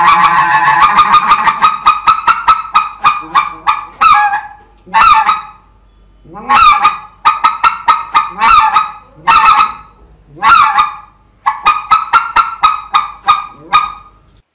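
A mouth-blown goose call imitates white-fronted geese landing: loud, close, clustered honks and quick chattering notes in bursts with short gaps, no talking over it.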